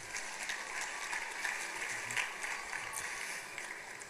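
Steady, faint applause from an audience at a beatification ceremony, a continuous even patter of many hands without cheering or speech.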